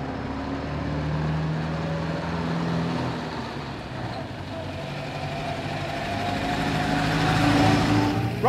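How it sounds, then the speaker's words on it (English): A vintage Clyno car with a three-speed gearbox pulls away gently in first gear, its low engine note steady and close, rising slightly with modest acceleration. "Rather gentle engagement of the clutch is required, and then after a very modest dose of acceleration, you're ready for second gear."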